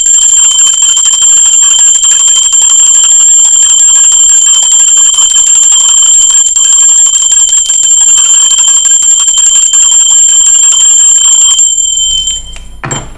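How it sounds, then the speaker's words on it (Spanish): A loud, sustained bell rings continuously with bright metallic tones for about twelve seconds, then cuts off abruptly, leaving a short quiet tail. "Va Campana."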